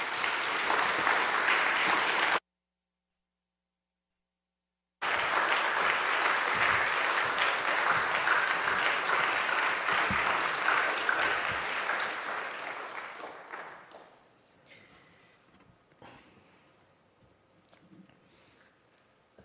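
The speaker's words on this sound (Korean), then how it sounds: "우리 목사님 등단하실 때까지 우리 박수로 환영하겠습니다." A church congregation gives a sustained round of applause to welcome a visiting pastor to the pulpit. The dense clapping is broken by a short silent gap, then fades away into near quiet.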